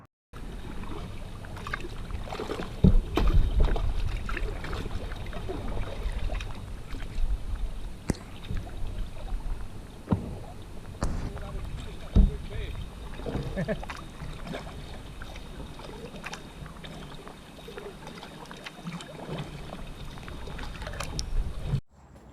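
Inflatable kayak being paddled along a river near Broadway's Meadow on a tough, challenging route, with steady water swishes and splashes, rumbling wind buffeting the microphone, and a few louder knocks and strokes early on.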